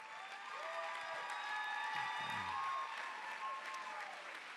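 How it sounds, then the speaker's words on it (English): Steady audience applause fills an awards finals hall, a dense wash of clapping from a crowd sustained evenly throughout, with a brief voice-like murmur rising underneath midway. "how about another round of applause for our hijack?"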